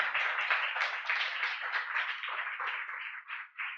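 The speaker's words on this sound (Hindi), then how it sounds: "तालियां जोरदार, हालेलुया।" A church congregation breaks into sustained applause, dense clapping that holds steady for several seconds, then thins and fades into scattered claps.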